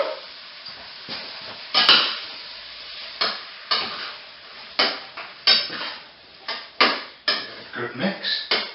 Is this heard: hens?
no